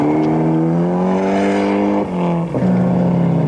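Mitsubishi Lancer rally car with a 1800cc turbo engine, on a 1997 New Zealand rally stage, holding a loud, steady high-revving engine note up close, with two brief dips as it shifts gears before pulling hard again.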